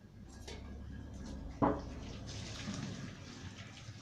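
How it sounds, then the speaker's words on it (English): Hot water from boiled red herring being poured out of a cooking pot, a brief splashing gush followed by softer trickling and drips, fairly quiet with no talk. "I'm going to take it off the stove, throw away the water"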